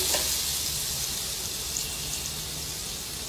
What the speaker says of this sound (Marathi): हे पॅन मध्ये आपण बटर टाकूया आणि त्याच्यामध्ये थोडा तेल पण टाकायचं